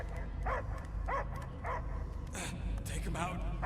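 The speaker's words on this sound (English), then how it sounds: "I hear only barking" A dog barking in Guardians of the Galaxy, several short yips and barks in a loose rhythm, close and clear over a low rumbling game backdrop.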